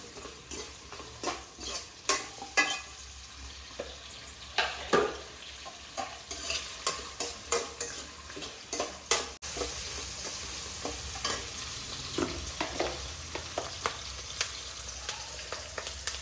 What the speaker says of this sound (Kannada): ಇವಾಗ ಇದು ಕೆಂಪಗಾಗೋವರೆಗೂ ಫ್ರೈ ಮಾಡೋಣ.